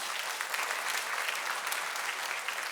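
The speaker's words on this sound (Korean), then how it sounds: "우리 이 자녀들을 위해서 날마다 애쓰고 수고하시는 이 부모님들, 우리 여러분들을 위해서 박수 한번 드립니다" A church congregation at an early-morning prayer service applauds parents, a steady, even burst of many hands clapping, moderately soft and unbroken, with no voices over it.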